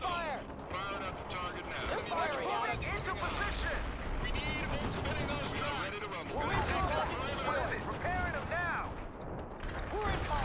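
Gunfire crackles through a World in Conflict battle, with rapid bursts and volleys layered under someone talking throughout.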